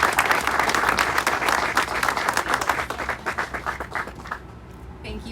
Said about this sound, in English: please give another round of applause for this remarkable announcement